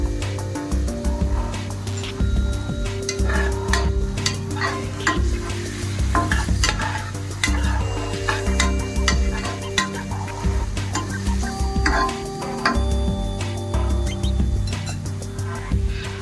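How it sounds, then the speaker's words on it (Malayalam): Cloves, cardamom and mace are sautéed in a pan for a South Indian village biryani, a steady sizzle broken by frequent scraping stirs and light clinks of a utensil against the pan, with no talking. "ഒരു ബ്രൗണിഷ് കളർ ആവുന്നത് വരെ നമുക്കിതൊന്ന് മീഡിയം ഫ്ലെയിമിൽ വെച്ച് ഒന്ന് വഴറ്റിയെടുക്കണം"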